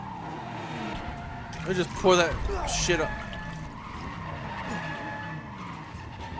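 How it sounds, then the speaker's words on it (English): In Resident Evil 7, a car skids with a loud, close tire screech and runs over the player, and someone talks excitedly over the noise. "I got ran over by a car."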